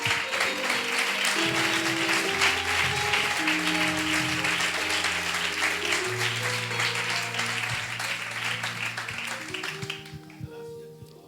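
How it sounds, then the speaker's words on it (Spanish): A church congregation applauds during a Spanish-language service, a sustained broad clapping that continues over organ-like sustained music for several seconds before thinning out near the end. "Dale un fuerte aplauso al Señor."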